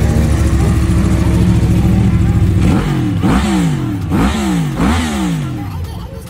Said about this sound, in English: Yamaha R1 Crossplane.